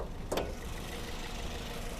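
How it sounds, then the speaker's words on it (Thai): A Toyota Vios 1.5-litre car engine idles steadily and close, a constant low rumble with one brief click near the start. "สตาร์ทรถไว้เรียบร้อยแล้วนะคือเดี๋ยวจะให้ฟังเครื่องยนต์กันใกล้ๆเลย"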